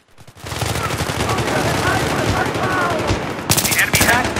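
Sustained automatic gunfire and combat noise in Battlefield 3, including Z-11 rifle fire on a bomb-defusal objective, a dense continuous roar of shots ending in a cluster of sharp louder bursts near the end.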